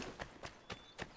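Horse hooves in the Assassin's Creed III video game clop in four evenly spaced, fairly quiet strikes over a soft background hiss.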